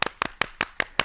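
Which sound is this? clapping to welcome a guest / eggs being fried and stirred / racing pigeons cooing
clapping to welcome a guest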